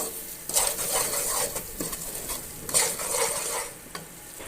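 Semolina being dry-roasted until lightly browned for halwa, stirred in a pan with a steady scraping rasp and soft sizzle, plus a few sharper clinks of the spoon against the metal.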